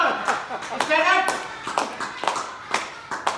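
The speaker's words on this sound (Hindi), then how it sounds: "मैं आपके सबके लिए जोरदार तालियों में इनका स्वागत करते हैं।" A club audience claps to welcome guests at a Bollywood-themed meeting, scattered sharp hand claps in an uneven rhythm with people talking over them.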